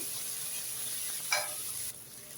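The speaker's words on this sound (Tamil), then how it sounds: "தக்காளியும் நல்லா வதங்கி வரட்டும்" Chopped tomatoes sizzle steadily in a hot pan, with a brief stirring scrape in the middle, close and fairly quiet.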